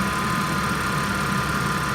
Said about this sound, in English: there's that supercharged 3-liter V6. That's a great motor.